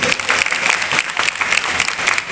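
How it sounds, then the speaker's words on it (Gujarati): Dense, steady applause from an audience at a retirement honour ceremony for a state bus depot conductor in Vadnagar, continuous clapping filling the whole moment without pause. "એટલે ફરી પણ જોરદાર તાળીઓ"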